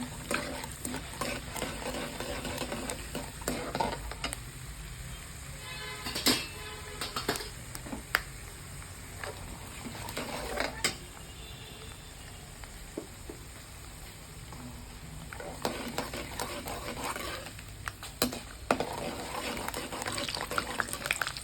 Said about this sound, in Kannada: ಕಡಲೆಕಾಯಿ ಬೀಜ ಸ್ವಲ್ಪ ಚೆನ್ನಾಗಿ ಫ್ರೈ ಆಗಬೇಕು.